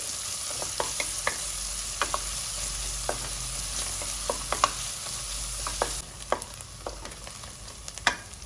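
Chopped onions frying in a few spoons of oil inside a pressure cooker, a steady soft sizzle with scattered sharp pops and spoon clicks throughout, quiet and close, with no talking.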